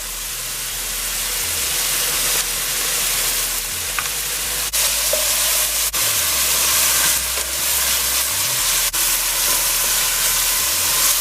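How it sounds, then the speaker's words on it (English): Onion, wiri peppers and garlic sauté in a hot pan with a loud, even, continuous sizzle and hiss, broken by a few faint clicks and no voices. "So I'm going to add the onion first. I'm going to saute that. Now I'll add the wiri peppers and garlic."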